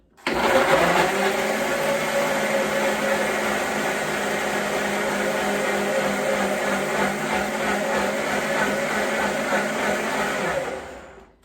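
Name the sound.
new blender blending lime mixture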